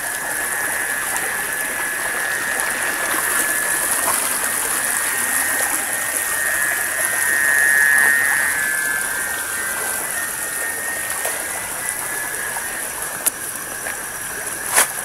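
A small forest stream flowing, a continuous rushing, gurgling wash of water with a steady level throughout, a brief swell in the middle and a couple of sharp clicks near the end.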